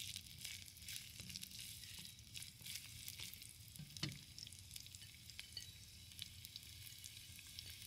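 Onion frying in a little oil in a very hot wok, a steady broad sizzle and crackle that stays even throughout, with a faint stir or scrape near the middle and no talking.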